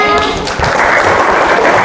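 A class applauds after a talk on Balinese traditional dance, a loud, dense burst of clapping that fills the whole moment, with voices mixed in.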